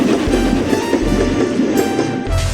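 Thomas the steam engine puffs along the track with a steady, rhythmic chugging that rolls on without a break, loud and close.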